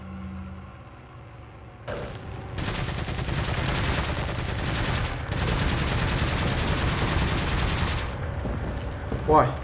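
Sustained rumbling machine-gun fire in the video game Resident Evil 4, a dense, continuous roar over several seconds with game effects, following a brief voice.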